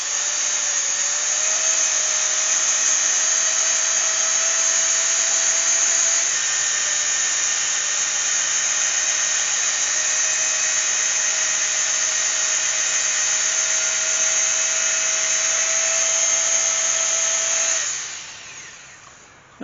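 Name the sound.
coarse sanding pad sanding brass-inlaid oak bowl on lathe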